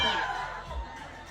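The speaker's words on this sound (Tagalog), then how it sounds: "Shout! Mag-iyawan!" A concert crowd at the Philippine Expo 2025 shouts and screams together, a loud, dense wash of cheering voices that gradually eases off.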